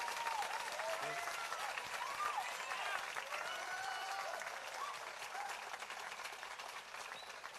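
An audience at a film festival awards ceremony keeps up steady applause with scattered cheers and whoops, loud and close throughout, while a voice speaks faintly underneath.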